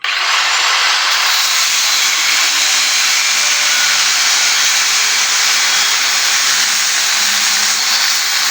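A one-inch metal strip being cut with a power tool, giving a steady, loud, hissing grind that holds unbroken for about eight seconds with no voices.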